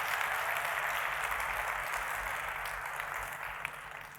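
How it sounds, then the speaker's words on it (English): A keynote audience applauding after a show of hands, a broad wash of many hands clapping from a distance, steady and gradually thinning toward the end. "Could you applaud if you just liked it?"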